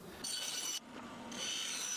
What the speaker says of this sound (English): I'm just going to quickly use the bandsaw to get around the outside of this